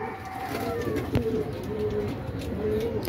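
Racing pigeons returning from a 149 km training toss from Gumaca, Quezon coo steadily at close range, with one sharp knock partway through and a faint murmur of talk in the background.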